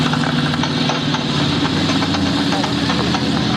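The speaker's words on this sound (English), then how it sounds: "Karen and I fire up the engines on the two trucks" Two monster trucks at a steam fair idle with a loud, steady, rumbling engine drone, close and continuous with a faint knocking texture.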